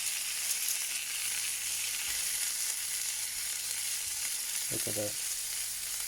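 Venison steaks coated in butter fry in a hot pan with a steady, loud sizzle throughout, close up, and a voice briefly speaks over it.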